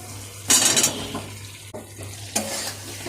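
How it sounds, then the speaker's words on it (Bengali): Small fried potatoes are stirred with spices in a hot kadai, giving loud bursts of scraping and sizzling between quieter stretches of steady frying. "এবার এটা ভালোভাবে কষিয়ে নেব আলুর সঙ্গে ভালোভাবে মশলাটা মিশিয়ে ভালোভাবে কষিয়ে নেব"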